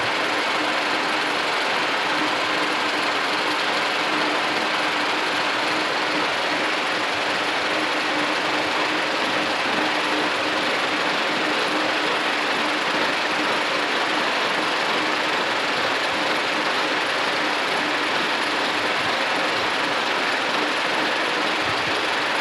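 A horizontal milling machine with a dividing head cuts a gear: a continuous, dense mechanical whir and grinding hum runs steadily and evenly, with no pauses and no talk.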